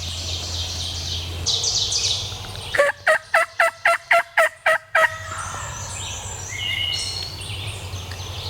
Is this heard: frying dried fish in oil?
no